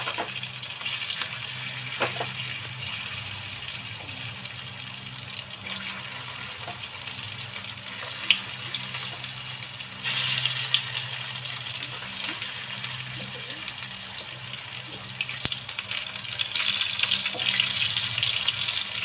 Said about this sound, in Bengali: এইভাবে এগুলো ভাজতে থাকবে।